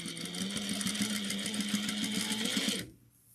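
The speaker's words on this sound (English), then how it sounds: "Back stitch well at the beginning and end." A sewing machine running steadily as it stitches a pillowcase seam: a close, rapid rhythmic whirring hum that lasts nearly three seconds before stopping abruptly, with no voices.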